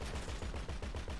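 Rapid automatic gunfire in a video game, shooting at a tank, a fast regular burst of close, loud shots filling the whole moment.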